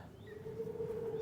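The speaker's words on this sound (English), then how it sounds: "you can hear the birds and everything" A thin, steady bird call sustained over a low ambient hum, soft and somewhat distant, from the TrackMan iO virtual golf game on the Marcella Club, Utah course.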